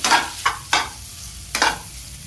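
Potato bhaji with salt and crushed peanuts stirred in a pan, four quick scraping strokes over a faint sizzle, close and clear with no talk.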